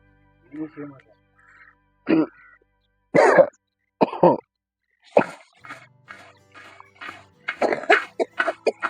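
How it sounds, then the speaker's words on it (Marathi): Several harsh, isolated coughs and throat-clearing bursts sound close by, followed by people talking. "खोकलं लागतं"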